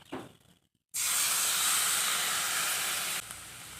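Mustard paste dropped into a pan of cooking drumstick curry sets off a sudden loud, close sizzling hiss that holds steady for about two seconds before easing off.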